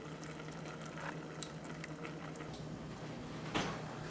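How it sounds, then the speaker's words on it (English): Gentle bubbling of spinach simmering in a pot on the stove, steady and close, with a brief louder bubble or splash near the end. "our spinach has been boiling for 15 minutes now, just sitting here simmering"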